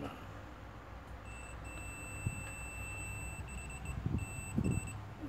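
A multimeter's continuity buzzer sounds a steady high electronic beep for several seconds while testing a ceramic capacitor in a Sony KLV-40R472A TV, with faint handling noise and low thumps underneath.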